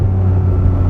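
A Ferrari 550 Maranello downshifting from fourth to third gear: a loud, close, steady engine drone with a strong low hum, heard alone for under a second.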